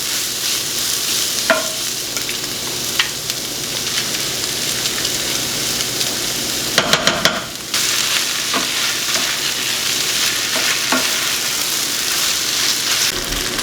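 Eggs and seasoned leftovers fry in a pan with a steady sizzle, a spatula stirring and scraping at intervals and a brief burst of louder clattering partway through.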